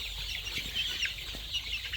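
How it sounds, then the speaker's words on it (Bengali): Chickens in a coop give soft, repeated clucks and murmurs against steady low background noise, close by and continuous throughout. "এই যে আইজল মুরগির একটু দেখাও"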